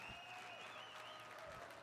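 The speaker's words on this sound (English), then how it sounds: "give yourselves a huge round of applause for that" Audience applause at a 2006 business presentation, steady clapping from a crowd filling the whole short stretch at a moderate, even level, with no talk over it.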